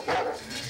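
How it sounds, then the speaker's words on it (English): A single loud, close dog bark rings out indoors, followed by a brief softer whine as it tails off, with no talking. "Could you take your dog somewhere else?"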